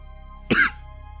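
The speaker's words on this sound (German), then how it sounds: "Und ich muss schon wieder husten." A single short, close cough from one person, sharp and loud against a quiet electronic hum from a space game, with no talking.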